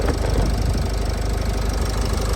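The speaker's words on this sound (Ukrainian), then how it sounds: "Так мотор працює рівненько, чистенько нічого не тече." A Renault Koleos 2.0 dCi diesel engine idles close by with a steady, clattering knock and a low vibrating rumble, even and unbroken throughout.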